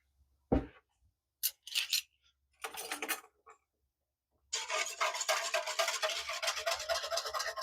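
Sourdough bread ingredients with sugar and salt are mixed in a bowl: a sharp clink, a few brief scraping strokes, then a long stretch of steady rhythmic scraping and rubbing, close and fairly quiet.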